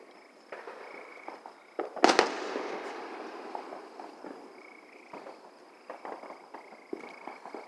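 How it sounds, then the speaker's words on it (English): Fireworks burst outdoors at a torn-down abandoned train station, one loud crackling blast near the two-second mark with a long rumbling decay, followed by scattered fainter pops and crackles in the distance. "lot of fireworks."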